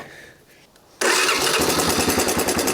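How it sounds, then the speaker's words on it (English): A 1987 Honda TRX250 ATV engine cranks and catches after a quiet second, then idles loudly and steadily up close. "I guess now we try to crank it, now that there's gas everywhere."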